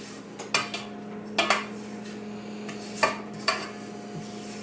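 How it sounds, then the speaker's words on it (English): A spatula scraping the sides of a mixing bowl of gingerbread batter, giving a handful of short scrapes and light knocks spaced apart over a steady low background hum, close and without speech. "I think I'm going to scrape down my bowl first, though."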